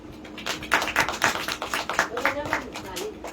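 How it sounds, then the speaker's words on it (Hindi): Steady rhythmic clapping from a congregation at a Hindi-language church service, welcoming newcomers; crisp, evenly spaced claps continue throughout with voices mixed in. "जो नया नया इन लोग के लिए जोरदार तालियां हो जाए।"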